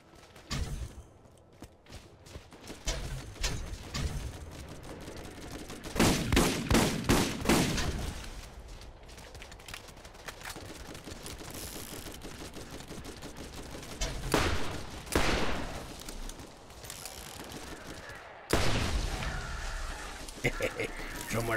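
Gunfire in the video game Borderlands, with bursts of rapid shots in several clusters under a steady game soundscape, while a voice talks over the action at times.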